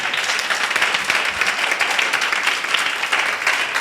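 A congregation gathered in church claps together, a dense and steady round of applause from many people, loud and sustained from start to finish.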